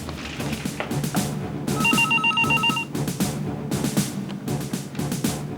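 A telephone rings in repeated bursts during a tense scene in the Indian crime drama CID, its bell tones clear over a busy background of low music and room noise.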